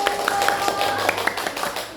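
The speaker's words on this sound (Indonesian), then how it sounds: "Oke, tepuk tangan dulu." A school class claps hands together in a classroom, a moderate patter of claps with voices faintly underneath.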